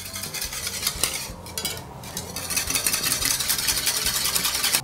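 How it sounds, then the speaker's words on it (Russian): A wire whisk beats an egg mixture for a peach sponge cake, giving a quick continuous scraping and clinking against the bowl, close and steady with a brief lull. "Я ее взбиваю венчиком для того, чтобы вся яичная масса была однородной."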